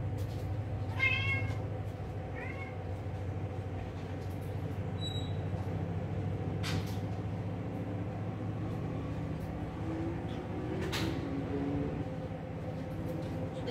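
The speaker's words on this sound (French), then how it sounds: "Désolée parce qu'avant il miaulait toute la vidéo, il est très désagréable, il est jaloux" A house cat meows in a few short, faint cries early on, against a steady low background rumble.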